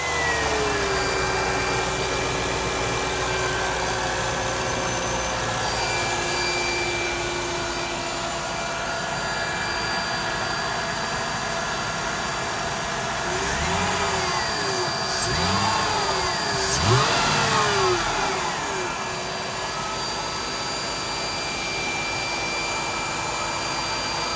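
A Mercedes ML55 AMG engine with a modified custom air intake idles steadily, then revs up in a few quick rising and falling bursts before settling back to a low, even idle.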